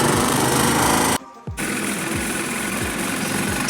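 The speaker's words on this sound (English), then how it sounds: "we used a sawzall with metal cutting blades" Sawzall reciprocating saw fitted with a metal-cutting blade cuts through a bus wall, a loud continuous buzzing rasp that stops briefly, then resumes with steady rhythmic strokes.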